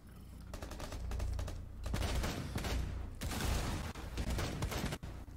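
Rapid bursts of automatic gunfire from the Rainbow Six Siege video game, dense and sustained for several seconds with brief gaps, loud and close, with no speech.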